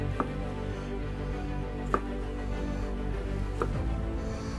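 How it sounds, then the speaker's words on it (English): Knife chopping a chuck roast into inch-sized cubes on a board, a few sharp separate cuts spaced about two seconds apart over steady low background hum, close and fairly quiet. "we're going to cut them in cubes"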